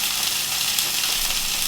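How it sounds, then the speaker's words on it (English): Steady, dense crackling sizzle of sausages frying in a hot pan, continuous and close, with no voices. "Is there a better sound in the world than sizzling sausages?"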